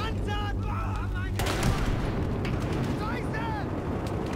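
Tank attack explosions rumble in the Battlefield Hardline video game, a dense continuous barrage of booms and gunfire, with voices shouting over it.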